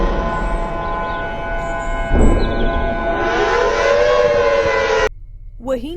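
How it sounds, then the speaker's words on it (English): A loud warning alarm siren wails in the Where is the Sky video game, rising and falling over a droning background before cutting off abruptly. "It sounds like they are releasing more monsters and that's like the warning alarm."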